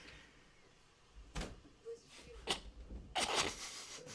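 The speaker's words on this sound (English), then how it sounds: "There's a cat very violently throwing himself against this door right now." A cat hurling itself against a door gives a series of separate thuds and bangs spread over a few seconds, with a longer rattling burst near the end. A faint background hum runs throughout.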